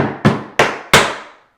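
Three sharp tap-shoe strikes, a toe stand and ball change, ring out in quick succession, each decaying briefly, the last slightly louder, like hard shoe strikes on a wooden floor.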